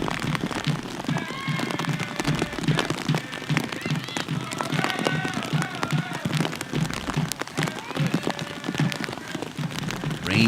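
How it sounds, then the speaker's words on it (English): Rain falling during a women's college soccer match at Penn State, a constant crackling patter of drops spread across the whole stretch, with crowd and voices faintly mixed in. "Rain coming down, you can hear it."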